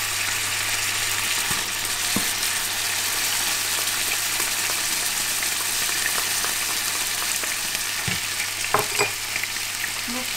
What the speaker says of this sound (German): Ich brate jetzt ein bisschen braun